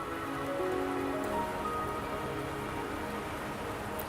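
Rain in the video game Wuthering Waves falls steadily, a dense even patter on surfaces with faint tonal music underneath, constant from start to finish with no talk.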